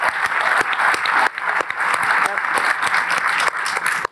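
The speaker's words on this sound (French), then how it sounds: "ce qu'il faut bien applaudir pour la solidarité nationale" A seated audience at a formal address on post-earthquake reconstruction claps steadily, a dense, loud patter of applause with sharper individual claps standing out, lasting about four seconds.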